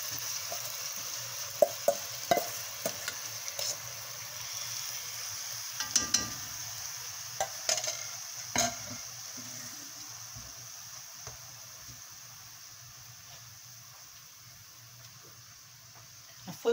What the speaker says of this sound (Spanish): Ya puse a calentar el aceite, así que ahora vamos a poner la cebolla.